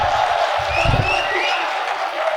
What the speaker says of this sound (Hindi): अगर आपको अच्छा लग रहा है तो एक बार जोरदार तालियां बजा के मेरी हौसला अफजाई कीजिए।